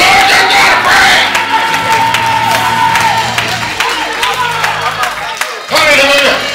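A church congregation claps and shouts praise, loud and close, with a roaring mix of cheers, voices and rhythmic hand claps that swells, dips briefly near the end, then surges again.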